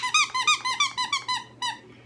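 A squeaky floating shark dog toy squeaks in a quick rhythmic run of about nine sharp, close, loud squeaks, then a pause and one last squeak, with no talking.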